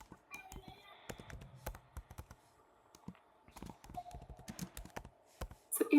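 Irregular clicks and taps of typing code on a computer keyboard during a Laravel programming lesson, quiet and close, in short uneven bursts with brief pauses.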